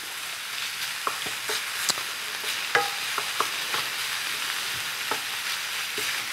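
Garlic frying in a pan, a steady broadband sizzle with scattered light clicks and scrapes of stirring throughout, close and moderately loud, no voices.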